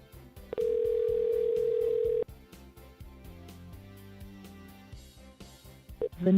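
Telephone call tones while dialing a scammer's number from an unused line, a steady loud tone for under two seconds followed by quieter lower tones and background music.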